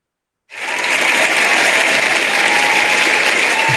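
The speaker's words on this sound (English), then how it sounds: "That's a crowd with a big round of applause." Applause from a crowd starts abruptly after a moment of silence and swells into a dense, steady, loud round of clapping that holds to the end.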